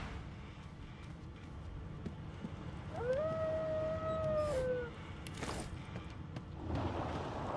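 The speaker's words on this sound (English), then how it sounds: "The dog whines." A single long, wavering dog whine in Divinity: Original Sin 2 rises and holds before trailing off, set against a dense, noisy background of rumbling and hiss.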